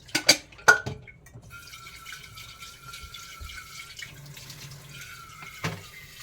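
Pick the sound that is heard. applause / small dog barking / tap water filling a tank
tap water filling a tank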